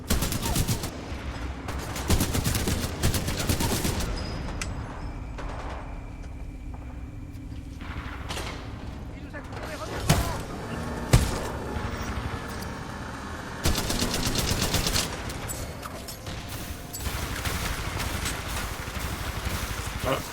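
Automatic weapon fire in the video game Titanfall 2, dense bursts of rapid shots with crackling impacts and explosions throughout a chaotic firefight, loud and continuous with brief lulls between volleys.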